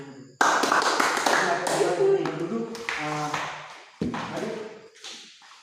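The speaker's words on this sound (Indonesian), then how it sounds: "Oke, tepuk tangan dulu." A class claps hands together during a teaching session on unison singing, a few loud bursts of clapping with a sudden start and a second sharp onset near the end, with voices audible alongside.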